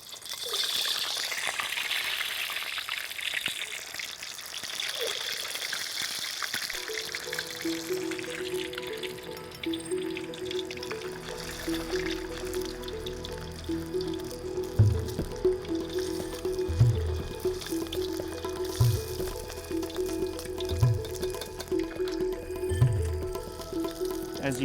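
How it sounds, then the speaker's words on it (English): Peeled eggs lowered gently by ladle into hot oil at about 180 °C and deep-frying, giving a steady sizzling hiss that fills the clip, with a few soft low thumps recurring near the end. "it's important that you lay them into the hot oil very gently using a ladle"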